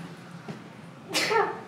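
A single sharp sneeze from a person indoors during a close-up kitten stream, loud and near, preceded by a faint low background hum and a small soft sound.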